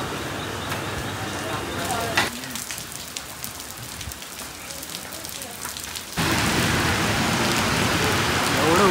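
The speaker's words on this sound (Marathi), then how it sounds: "आता बाहेर उतरल्या पाऊस बघ किती जोरात आहे" Heavy rain pours loudly outside Cotton Green station in Mumbai as a steady, dense hiss that drops briefly and then returns stronger, with voices faintly mixed in.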